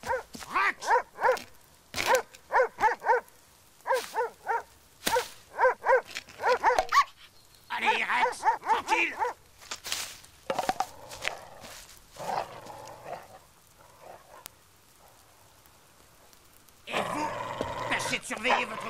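Guard dogs in the Spirou animated series bark and yelp in clustered bursts, near and fairly loud, alternating with people talking and a few quieter gaps.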